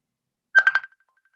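An incoming call sets off a phone ringtone, a few quick electronic pulses near and clear, then a faint tone lingering as it cuts off.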